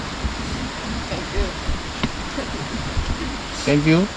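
A river flows beside a farm campsite where a camper van is parked, a steady broadband rush of water under nearby talk and a few bird calls.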